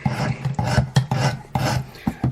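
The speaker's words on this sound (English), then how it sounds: "cleaned up this edge a little bit using the coarse stone" Knife edge sharpened on a Work Sharp coarse stone: close, raspy grinding strokes repeated about six times in a steady back-and-forth rhythm, with no talking.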